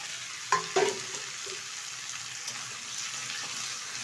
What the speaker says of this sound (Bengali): ভালোভাবে এবার নেড়ে চেড়ে নেব বেশ কিছুক্ষণ সময় ধরে।